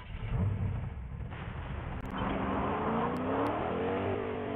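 A truck engine in the Fortnite video game revs up, a loud car-like roar that rises in pitch after a short dip, with faint clicks of game sounds over it.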